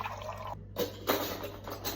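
Room-temperature water pours into a jar in a short, splashy stream, stopping briefly and then resuming with gurgling, close by and fairly quiet.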